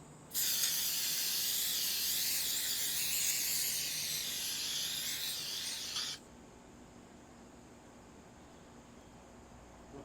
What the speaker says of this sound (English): Just a little bit of spray olive oil.